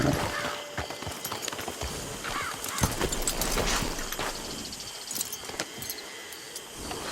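Horse hooves clip-clop steadily in Red Dead Redemption 2, a moderately quiet in-game horse walking with irregular thuds amid faint ambient game noise.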